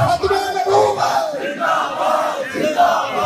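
A large crowd chants religious slogans together at a gathering, voices rising and falling in loud, rhythmic unison that fills the space.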